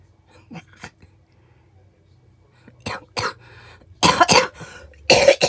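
Several sharp coughs burst out near the end after a few faint earlier ones, close by and otherwise quiet between them.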